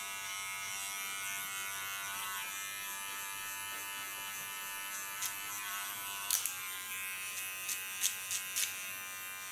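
Electric hair clipper buzzing steadily up close while trimming a short pixie cut, cleaning the contour line, with a few faint clicks and scrapes near the end.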